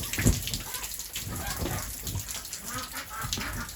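Rain falls steadily in an outdoor yard where ducks are kept, a soft continuous patter with scattered drip sounds and occasional faint clucking or quacking from the birds in the background.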